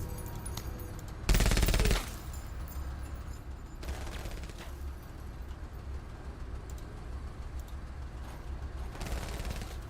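Machine gun fire in the video game MENACE: one loud close burst early on, then quieter bursts over a steady rumbling mechanical background, with no voices.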